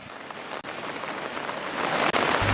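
Water released from a tank rushes out through a canal toward a reservoir during heavy rain, producing a steady, loud, broadband roar of flowing water that continues without a break.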